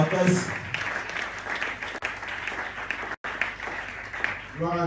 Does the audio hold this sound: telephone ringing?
no